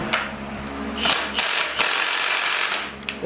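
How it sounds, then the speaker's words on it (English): A ratchet backing out bolts holding a radiator during a radiator relocation install, with rapid mechanical clicking and whirring in loud bursts, close up, with no speech. "we're gonna take these two bolts out right here so we can take the radiator off"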